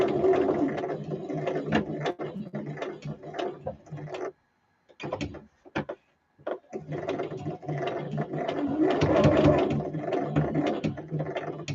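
A home sewing machine stitches lace onto pockets in close, loud mechanical bursts, pausing briefly with a few isolated clicks before running steadily again.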